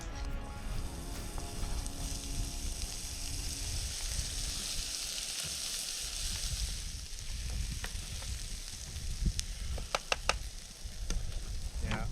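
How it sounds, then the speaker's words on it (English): Shallots, onion and garlic hit a hot pan on a remote Australian coastline and fry with a dense, continuous sizzle, stirred throughout, with a few sharp clinks of the utensil toward the end. "throw the shallots and the onion and the garlic in, mix it all in together, a bit of salt, a bit of pepper"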